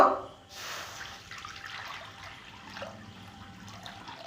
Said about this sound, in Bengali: কড়াতে জল দিয়ে দিব